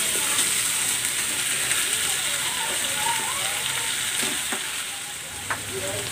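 Chicken sizzles and crackles steadily in a hot pan after pepper is added, a dense frying hiss with a few faint clinks, close and continuous throughout.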